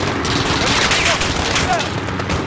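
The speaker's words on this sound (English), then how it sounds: "Gunshot." Rapid bursts of gunfire crackle in a dense, loud volley in Call of Duty: Modern Warfare (2019), with no break in the shooting.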